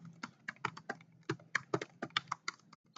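Fingers type an email address on a computer keyboard, a quick, irregular run of close, crisp key clicks with no voices.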